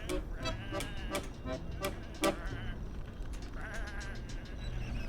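Sheep in the video game Whateverland bleat repeatedly, several quick wavering calls overlapping in the first half, then a longer, fainter bleat over a steady ambient game background.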